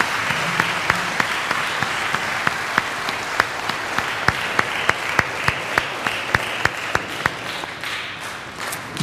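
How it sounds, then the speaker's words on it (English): A church congregation applauds confirmation candidates at a Catholic community service, a steady crowd of clapping with sharper individual claps standing out, continuing at even loudness for several seconds before thinning slightly at the end. "would you please indicate your approval with your applause?"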